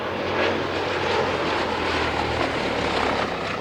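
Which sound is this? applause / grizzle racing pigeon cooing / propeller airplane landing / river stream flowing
propeller airplane landing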